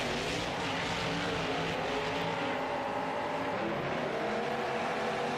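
Monster trucks Evil Force and Windbreaker race in a stadium in Anaheim, their engines producing a constant, loud roar that holds steady the whole time.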